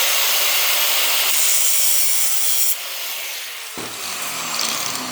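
Sheet metal patch panel being cut off in a workshop, a steady loud rasping, sawing-like cut that continues for about five seconds, easing slightly midway before a sharp change near the end.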